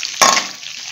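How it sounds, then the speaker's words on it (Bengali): Okra turned with a utensil in hot oil in a pan, a single sharp scrape-and-sizzle burst that fades into a soft steady crackle, close and fairly loud. "দিয়ে ভালো করে নেড়ে দিতে হবে, যাতে ভেন্ডিটা পুরো তেলের সঙ্গে"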